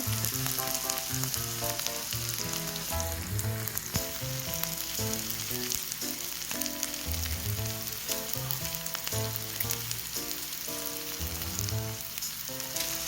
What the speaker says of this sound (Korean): 미나리자 미나리자 익어가는 소리입니다